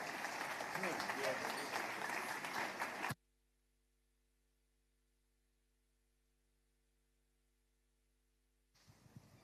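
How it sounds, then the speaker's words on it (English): An audience applauds at a Nigerian business event, a burst of clapping that stops abruptly after about three seconds, followed by near silence before faint sound returns at the end. "Ladies and gentlemen, please give a round of applause for Sinari Danjo."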